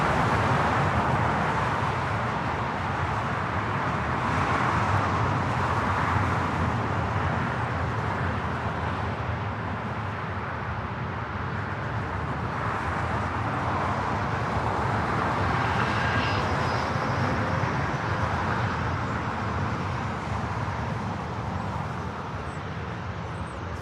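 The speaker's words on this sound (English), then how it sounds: "Right up next, Cathay Pacific, the 777-300ER." A Cathay Pacific Boeing 777-300ER jet airliner at LAX roars steadily as a broad, distant jet rumble that swells and holds for the whole stretch, mixed with faint airport ambience.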